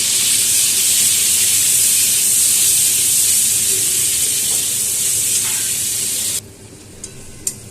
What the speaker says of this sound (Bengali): এবার ওই তেলের মধ্যে আমি দিয়ে দেব ম্যারিনেশন করে রাখা চিকেনগুলো।